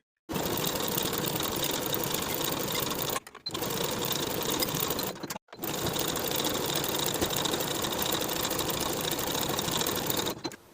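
A sewing machine runs along the side seams of a sleep set garment in three long, steady stretches of rapid stitching, separated by two brief pauses, close and loud with no voices.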